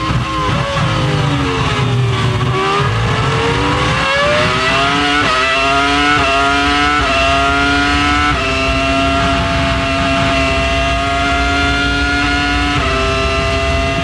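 Ferrari Formula 1 cars from the 2002 season race past with loud, sustained high-revving engine whine, pitch rising and shifting through gears as several cars scream by close together for the whole stretch.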